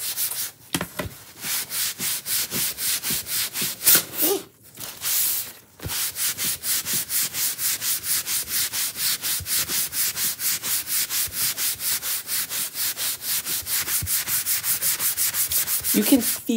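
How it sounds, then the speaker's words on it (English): Steady, rapid back-and-forth rubbing of a cloth or brush buffing wax onto a Chalk Couture project, a loud rhythmic swishing that continues for most of the clip with one short pause partway through. "All right, so I applied it and we're now just buffing it."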